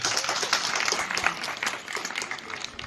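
A lecture audience claps together in a dense, steady wash of applause that stays moderately loud and fairly distant for the whole stretch.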